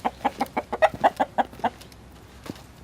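A small farm flock of chickens clucks in a quick run of about ten close, rhythmic clucks, then trails off into quieter scattered calls.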